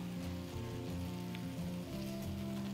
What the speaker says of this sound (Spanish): Y estamos cocinando acá el pollo